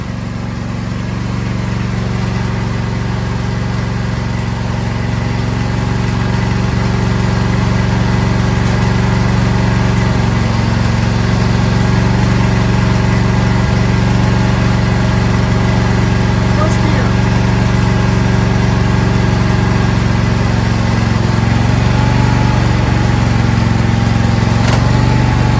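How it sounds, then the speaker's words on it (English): A lawn tractor's small engine runs steadily for about half a minute, a loud, constant mid-pitched drone with a low hum underneath and no clear revving. "Let's put it in gear and see if we can move this tractor."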